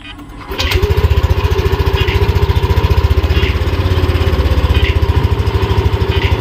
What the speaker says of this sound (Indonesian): Untuk suara mesinnya kurang lebih seperti ini teman-teman.